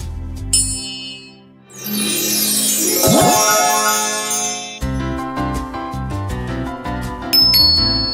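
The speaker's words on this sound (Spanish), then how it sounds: "¿Es el timbre lo que escuchamos?" A doorbell rings in a children's cartoon, bright chiming tones recurring over busy background music, loud and close with no talk.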